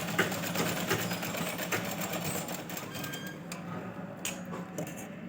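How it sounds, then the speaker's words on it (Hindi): A sewing machine stitches a blouse with a steady mechanical whir and fine ticking, running continuously at moderate level with a few small clicks and no talking. "अभी मैं एक और सिलाई लूँगी जिससे ब्लाउज़ की फिनिशिंग बहुत अच्छी आती है।"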